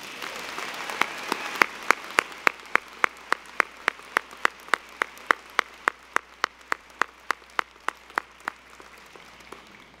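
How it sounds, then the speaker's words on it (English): Steady, evenly spaced claps ring out during a college commencement ceremony as the emeriti are acknowledged, sharp and regular like a slow rhythmic beat over a quiet hall, fading out near the end. "let's acknowledge our emeriti with one more round of applause"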